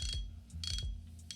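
Drag on a 2024 Quantum Strive budget spinning reel clicks in three short ratcheting bursts with pauses between them, close and fairly quiet, with a dampened tone that is not very bell-like.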